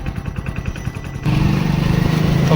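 A motorcycle engine chugs in a steady low putter, then revs up louder and keeps droning close by as the bike rides off down a street.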